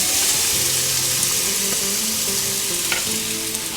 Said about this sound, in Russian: наливаю сюда пару ложек растительного масла для жарки, высыпаю лучок в сковороду